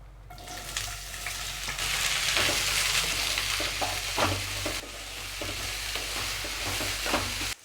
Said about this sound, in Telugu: నూనె బాగా వేడెక్కినాక ఇందులోకే హాఫ్ కేజీ దొండకాయ ఈ విధంగా కట్ చేసుకుంది రౌండ్గా ఇందులోకి వేస్తున్నాను